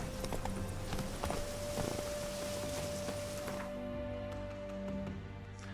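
Hooves of the horse Roach clip-clop at a steady trotting rhythm in The Witcher 3, close and continuous, with a faint sustained tone running beneath.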